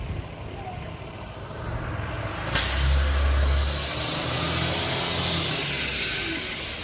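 A school bus idles nearby as students get off, its engine a steady low rumble with a sharp air brake hiss partway through, under faint background talk.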